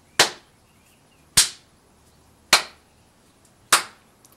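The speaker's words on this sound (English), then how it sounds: "Can you hear that clap was quite slow?" Hands clap slowly and deliberately, four crisp, close claps spaced evenly about a second apart with silence in between and no other sound.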